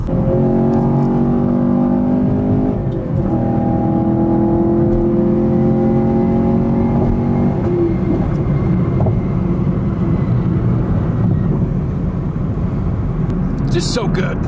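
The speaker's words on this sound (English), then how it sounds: "Just so good to be able to downshift a few times and send it in the old good American muscle car" Chevrolet Camaro SS 1LE V8 revving through downshifts, loud engine tones sweeping in steps over several seconds inside the car, then settling into a steady roar as someone talks over it.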